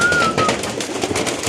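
Domestic pigeons, including a male tumbler, shuffle and coo softly in a small, crowded loft, with close wing flutters and scratchy movement.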